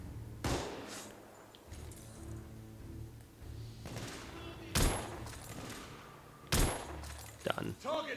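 Gunfire in the video game The Order: 1886, a few loud, separate shots spaced several seconds apart over a low, steady game backdrop, with one sharp burst near the end.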